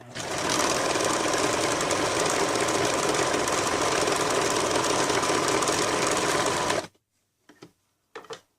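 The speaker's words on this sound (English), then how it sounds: "reinforce the side seams with a zigzag stitch" A sewing machine runs a zigzag stitch along t-shirt side seams, a loud steady close-up whir for about seven seconds, then stops, followed by a few brief mechanical clicks.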